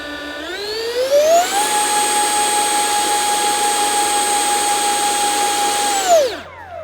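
Twin crash-salvaged electric ducted fans in an SR-71 model jet spool up to a loud, steady high-pitched whine, hold it for several seconds, then wind down, heard alone.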